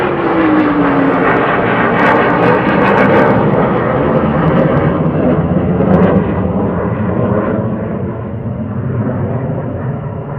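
A military jet thunders loudly overhead at RAF Lakenheath during surge operations, its engine roar filling the air continuously and slowly fading toward the end.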